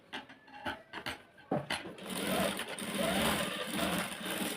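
A sewing machine stitches cloth near a canvas backing while sewing a sleeve, starting with a few short bursts and then running steadily and fairly close.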